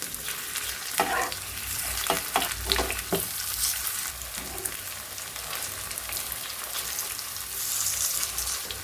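Rice-and-pumpkin fritters (bora) fry in a pan of oil with a steady, close sizzle, broken near the start by a few sharp clatters as the batter goes in and gets stirred.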